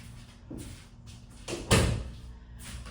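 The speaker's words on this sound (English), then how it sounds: "let me close the door" A door is pushed shut indoors, with soft shuffling and handling noises followed by a single firm thud of it closing, fairly near and with no talking.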